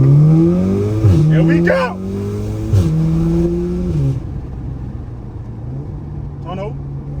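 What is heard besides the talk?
straight-pipe Audi S3 exhaust accelerating in a tunnel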